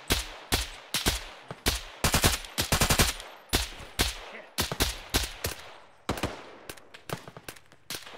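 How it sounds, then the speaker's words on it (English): Gunfire in the military video game Arma on the Sahrani map, with rapid bursts of loud, sharp shots repeating steadily throughout, some in quick clusters, others spaced apart, with no talking. "I think he's shooting at Charlie."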